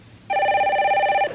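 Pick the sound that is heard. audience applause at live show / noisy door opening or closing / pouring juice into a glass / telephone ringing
telephone ringing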